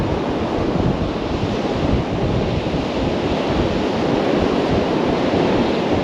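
Incoming tide on a windy sea shore at Kilnsea, England, with surf washing in as a loud continuous roar, heavily mixed with gusting wind buffeting the microphone, and no voices.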